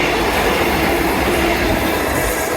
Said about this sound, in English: Train coming.